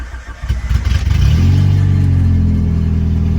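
Car engine being started with the RGV valve removed, cranking briefly then catching into a steady, loud low idle with a sustained rumble, close by and alone.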